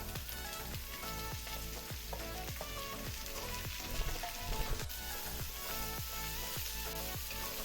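Loud, continuous sizzling of chopped snake gourd frying with onion and spices, with rhythmic scraping strokes as the pan is stirred, up close and without talk.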